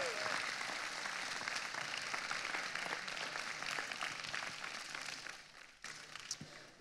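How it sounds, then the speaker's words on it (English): An audience claps for event organizers in a broad, even wash of applause that thins out near the end, followed by a few scattered sounds. "So can we give just a massive round of applause to the event organizers for making all this possible?"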